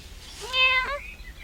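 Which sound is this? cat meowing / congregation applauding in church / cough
cat meowing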